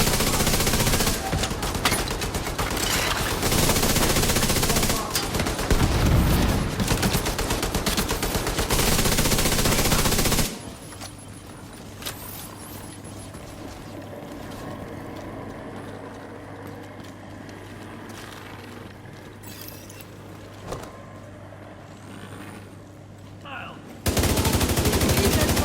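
Rapid automatic gunfire from an assault rifle in the video game The Division 2 rattles loudly and continuously for about ten seconds, then drops to quieter game ambience before a final burst of shooting.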